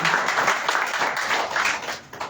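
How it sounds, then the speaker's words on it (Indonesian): A church congregation claps together in steady, dense applause lasting a couple of seconds, moderately loud and fading slightly at the end. "Beri tepuk tangan buat Tuhan Yesus."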